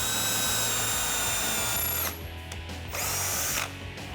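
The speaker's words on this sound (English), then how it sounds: "I'm using a 3/16 inch drill bit and a drill." A power drill with a 3/16 inch bit whines steadily at close range, briefly easing off in pitch and then spinning up again as it bores a pilot hole on a Jeep Wrangler JK.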